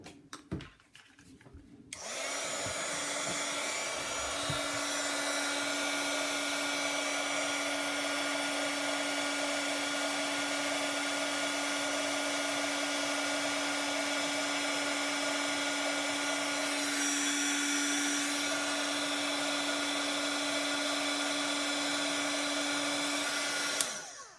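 A heat embossing tool blows hot air in a steady, loud, continuous whir for over twenty seconds, starting abruptly after a brief pause and stopping at the end, with no talking.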